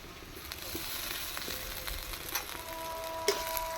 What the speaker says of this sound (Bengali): এখন আমি ওই কাঁচা লঙ্কা আদা পেঁয়াজ রসুন পিসলাম যেটা সেটা এখন দিয়ে দিচ্ছি